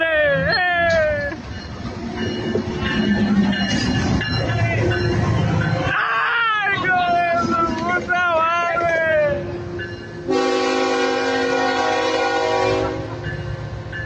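A train arrives at a rail crossing in Grovetown, Georgia, where a truck is stranded on the track: loud, repeated horn blasts sound over heavy rumbling, and a harsh burst of noise mid-way marks the impact.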